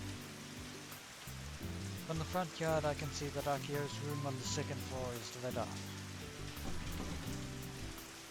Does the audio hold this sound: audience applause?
no